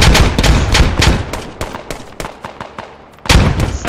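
A Mark 19 grenade launcher fires in the Squad video game, loud rapid thumping shots in quick bursts with booming impacts, a short lull, then another heavy blast.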